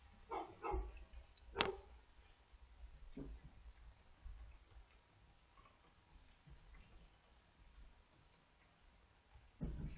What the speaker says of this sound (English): You can hear the dog barking upstairs